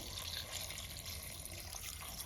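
Water pours into a pressure cooker holding kidney beans on a gas stove, a soft, steady splashing rush that stays faint and even throughout, with no talking.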